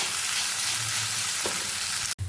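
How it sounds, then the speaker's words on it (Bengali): Masala pasta with tomato ketchup fries in a pan, a steady close sizzle with a faint stir scrape, ending in a brief cutoff. "আর কিছুক্ষণ ভালোভাবে একটু ভেজে নেব, তাহলে রেডি হয়ে যাবে আমাদের মশলা পাস্তা"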